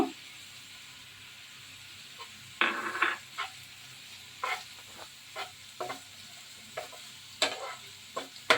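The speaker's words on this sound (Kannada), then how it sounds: "अब हम इसमें डालेंगे कड़ी पत्ता।" Curry leaves fry in a hot pan for mutton pepper fry, producing faint crackling and sizzling with scattered short pops and stirring scrapes over a low background hiss.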